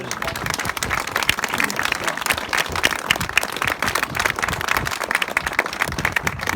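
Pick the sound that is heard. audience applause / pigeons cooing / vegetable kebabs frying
audience applause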